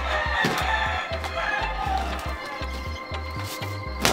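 A rooster crows repeatedly outdoors against steady background noise, with a low, rhythmic thumping running underneath throughout.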